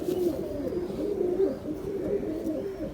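Pet show pigeons coo softly and repeatedly up close, a low rolling throaty murmur continuing throughout without speech.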